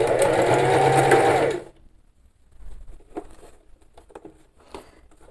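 A sewing machine stitches bias binding onto the edge of an embroidered souplast place mat, running loud and steady for about a second and a half before stopping, followed by quiet handling noises.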